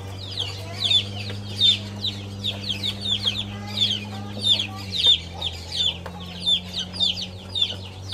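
Hens and chicks on a farm cluck and peep in a steady run of short, bright calls, with a low hum underneath and a brief shift partway through.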